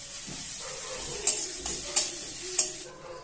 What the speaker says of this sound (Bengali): আমি তেল দিচ্ছি না, একটু বাটার দিয়ে দিচ্ছি। আমি প্রথমে দিয়ে দিচ্ছি আদা কুচিটা